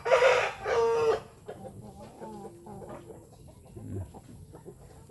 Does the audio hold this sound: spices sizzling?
no